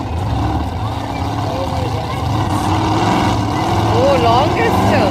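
A 30-year-old monster truck, blue truck number 5, revs its engine loudly at a monster truck racing show, with a steady deep roar that swells toward the end while a commentator talks over it.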